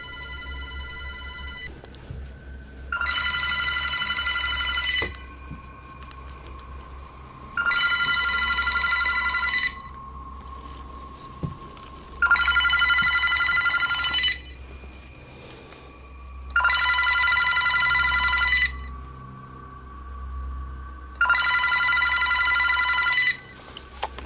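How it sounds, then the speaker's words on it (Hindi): A telephone in another room rings in five long, evenly spaced bursts of an electronic bell tone, loud and steady, with short gaps of faint hum between rings. "एक दूसरे कमरे में रखा टेलीफोन भी बजने लगता है।"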